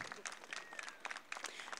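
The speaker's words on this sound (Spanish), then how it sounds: "Los aplausos son para Ana." Brief burst of applause at a campaign rally, a crowd clapping steadily, heard faint and somewhat distant.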